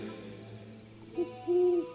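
An owl hoots at night: one short low hoot, then a longer drawn-out hoot a moment later. Both are fairly soft, set against a quiet, steady background hum.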